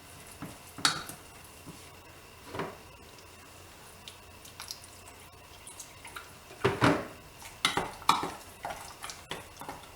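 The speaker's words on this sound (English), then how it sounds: "Add a little at first, kind of keep mixing." A baking soda and hydrogen peroxide paste is stirred in a bowl, heard as quiet, close scraping and clinking strokes with irregular pauses and soft wet squishes.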